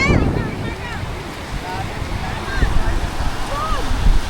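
Sea waves washing and breaking at a beach outing, a steady rushing surf with wind buffeting the microphone, while people talk and call out over it.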